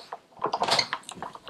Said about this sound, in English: This is my Ellison Big Shot machine.